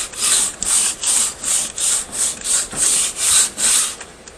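Hand sanding of wood on an amateur guitar build, about ten even back-and-forth rasping strokes in a steady rhythm, loud and close with no voices.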